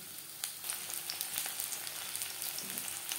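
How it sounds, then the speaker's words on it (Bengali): Large chunks of onion fry in three spoons of hot mustard oil, a continuous close crackling sizzle with small pops and no voices. "3 চামচ সরষের তেল গরম করে নিয়েছি। এবার দিয়ে দেবো পেঁয়াজ।"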